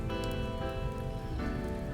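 Steady rain falls in the video game Life Makeover, a continuous even hiss of drops heard alone with no voices.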